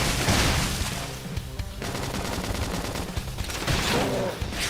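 Continuous rapid gunfire in a Xenoblade Chronicles X Definitive Edition battle, dense overlapping shots and bursts with booming impacts, loud and sustained throughout.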